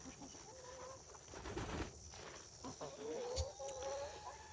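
Chickens on a homestead cluck and call in a morning yard, with a few sharper squawks over quiet background noise, moderately close and fairly soft.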